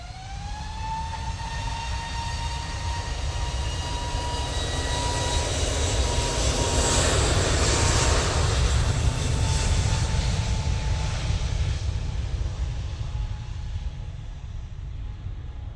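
A Qatar Airways jet at Manchester Airport roars steadily for about sixteen seconds, a broad engine rumble with a whining tone on top that swells to a peak midway and then eases slightly.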